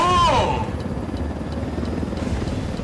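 A helicopter in the video game Ghost Recon Wildlands roars close and loud, with a whining tone that sweeps down at the start and then settles into a steady rotor chop and engine rumble.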